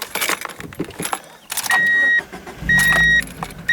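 A 2002 Mazda Miata with 57,000 miles starts up close by amid jangling keys and steady electronic chime tones, with a brief low rumble from the engine catching near the end.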